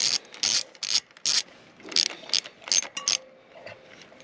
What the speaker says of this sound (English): once you back these bolts off enough so that you're happy with that